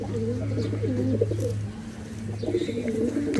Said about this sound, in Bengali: মাঝারি সাইজের কবুতর